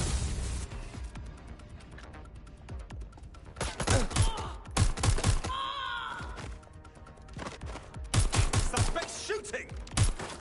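Gunfire in Watch Dogs Legion rings out as bursts of sharp, closely spaced shots, broken by gaps filled with game ambience and shouted voices, with a second heavy volley near the end.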